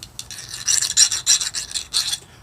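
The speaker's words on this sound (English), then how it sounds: "I took a rat tail file" A rat tail file rasps inside a half dollar coin ring, quick repeated scraping strokes in an uneven rhythm, close and fairly loud with no talk.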